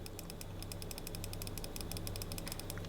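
Rapid, crisp clicks from the buttons of a Razer Kishi V2 iOS controller, pressed in quick bursts close by, small and sharp over a low background hum.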